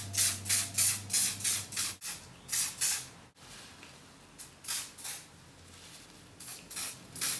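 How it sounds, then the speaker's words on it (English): Setting spray misted onto the face over eye makeup, a run of short close hissy bursts in quick rhythmic pumps, with brief pauses between groups and no talking. "I'm going to directly spray onto my face"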